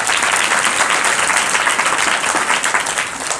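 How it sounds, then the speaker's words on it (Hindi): Loud, dense applause from an audience fills the space continuously, a steady wash of many hands clapping together with no break and no voices standing out. "एक बार जोरदार ताली अपने लिए बजाएं।"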